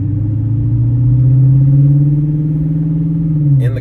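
A deep, steady exhaust rumble from a 5.7 Hemi V8 Chrysler 300 S with MagnaFlow exhaust idling and gently revving, low and throaty throughout, ending with a brief clatter.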